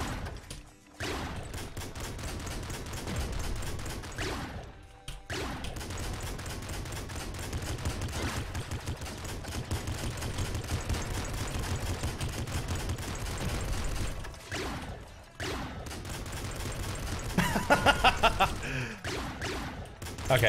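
Rapid, sustained gunfire from the Golden Frog gun in Nuclear Throne, dense and loud for most of the stretch, with a few short pauses and a brighter burst near the end, while someone talks over it.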